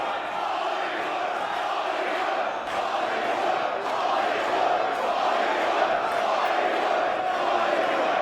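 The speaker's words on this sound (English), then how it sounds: "Crowd firmly behind the Bollywood Boys here. They're calling for it once more." A wrestling crowd at the WSW Legacy 2025 tag team championship chants steadily in support of the Bollywood Boyz, a dense, loud, continuous roar of massed voices that holds level throughout.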